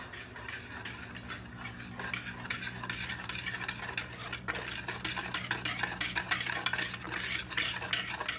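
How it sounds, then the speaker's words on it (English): Cornstarch, flour and sugar whisked together in a bowl, a steady scraping and tapping of the whisk against the bowl, continuous and fairly close, with faint background hum. "Batán, harina de maíz, harina y azúcar en un bowl"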